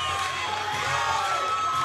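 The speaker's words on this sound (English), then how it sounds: "both sides of the crowd going crazy" At a lightweight fight at the Freedom National Championship, a packed arena crowd cheers and shouts continuously, a dense roar with whoops and raised voices throughout.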